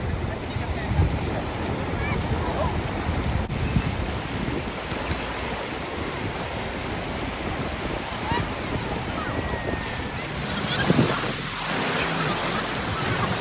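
Surf rolls onto Galveston beach in Texas as a continuous wash of breaking waves, heavy with wind buffeting the microphone, sustained and fairly loud for the whole stretch.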